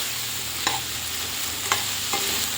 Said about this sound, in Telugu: అడుగంటకుండా మధ్య మధ్యలో కలుపుకోవాలి లేకపోతే అడుగు అంటుతూ ఉంటుంది